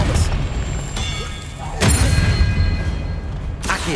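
Spell-casting effect from the Hogwarts Legacy video game: a low booming impact with a rumbling thud near two seconds, over a steady game soundscape and short bursts of crackle.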